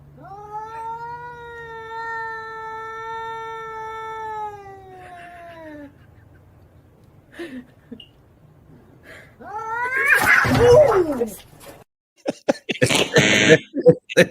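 A cat's drawn-out yowl rises and falls for several seconds, followed after a pause by harsher, rougher cries and bursts of noise, all loud and close with no talk over it.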